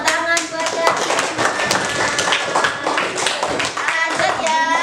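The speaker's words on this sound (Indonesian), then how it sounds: "Ya, tepuk tangan buat Dewi." Classroom applause for a student teacher: close, lively clapping from several hands with uneven rhythm, mixed with children's voices chattering underneath.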